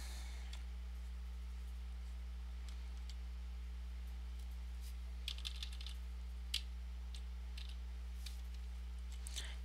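A computer keyboard gets scattered keyboard-shortcut presses, faint clicks and taps over a steady low electrical hum, sparse at first and then in a small cluster.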